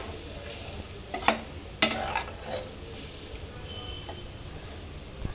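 Chicken liver being sautéed and stirred in a pan for a Bengali liver dish, a soft steady sizzle broken by a few sharp spatula scrapes against the pan.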